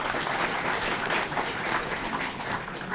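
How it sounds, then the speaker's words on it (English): Sustained applause from a live audience at a Gerry Anderson fan event, even and moderately distant. "round of applause"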